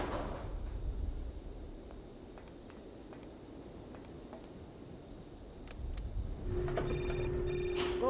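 In the video game Syberia, a telephone starts ringing after a quiet stretch, with a couple of short electronic ring bursts standing out clearly over faint ambient background near the end.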